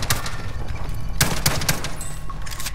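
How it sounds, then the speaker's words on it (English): Rapid nail gun fire from Call of Duty Warzone crackles in quick bursts over a steady background of game noise, with several sharp shots standing out near the end. "Goddamn nail gun, dude."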